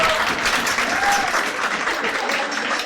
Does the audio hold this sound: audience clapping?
yes